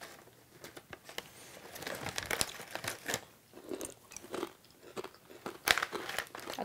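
Crisp, irregular crunching and chewing of Orchard Blend Crunch dried fruit pieces, close to the mouth, with sharp bites and brittle crackles spread unevenly across several seconds and no talking.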